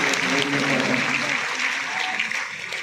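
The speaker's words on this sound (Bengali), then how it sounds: "হ্যাঁ, একটু জোরে হাততালি দিতে পারি না" Audience clapping at a panel discussion, dense continuous applause that stays loud throughout and eases slightly toward the end, with a faint voice beneath.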